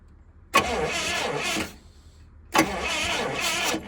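An engine cranks over twice with a starter, each a rhythmic chugging burst about a second long, separated by a short pause, without firing up.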